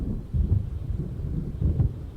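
Approaching thunderstorm over Cauldron Lake in Alan Wake Remastered, low distant thunder rumbling in two swelling rolls beneath a steady wash of wind and faint rain.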